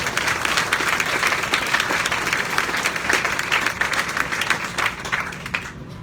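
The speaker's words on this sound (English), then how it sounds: "Give these, ladies and gentlemen, a round of applause." An audience at a groundbreaking ceremony for a Lake Charles, Louisiana venue breaks into a sustained round of applause, dense and even, easing off slightly just before the end.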